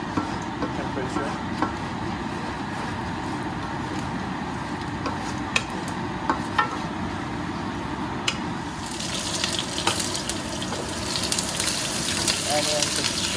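Onions and chili frying in a very hot pan, a continuous crackling sizzle with small pops that grows brighter and more intense toward the end.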